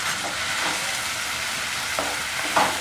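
Onion with ginger garlic paste frying in a pan for a spiced taro leaf curry, giving a steady close sizzle with a few soft stirring clicks and no voices.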